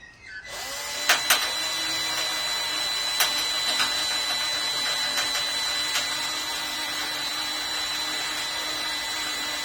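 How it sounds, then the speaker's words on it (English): A power drill bores into a metal Dobsonian telescope tube. The motor spins up abruptly into a steady, loud, high whine that runs on without a break, with a few scraping knocks near the start. "just take your time when you're drilling the metal and stuff"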